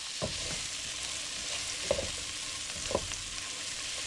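Sausage and onions fry in a pan with a steady, close sizzle, broken now and then by soft scraping stirs as the food is moved around; nobody talks.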